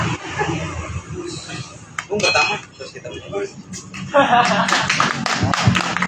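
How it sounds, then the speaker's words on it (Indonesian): Scattered clapping from an audience welcoming a poetry performer at a book discussion event, mixed with clinking of dishes and cutlery, under ongoing chatter and talk nearby. "tepuk tangan untuk pada Bung Faiz"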